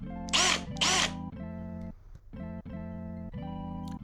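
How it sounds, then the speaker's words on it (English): A cordless electric drill whirs in short bursts, revving up and stopping several times at close range while being used on a snare drum muffler installation. "my drill,"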